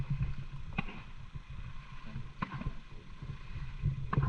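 Paddles stroke through shallow water beside a small fishing boat near an island, its engine off, with a few distinct splashes and gurgles over a low steady wash of water.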